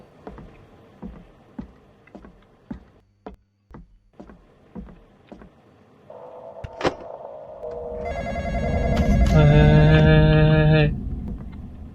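An in-game telephone in the Roblox game The Intruder starts ringing partway through, a loud electronic ring that swells over the second half after a run of soft knocking, thumping steps.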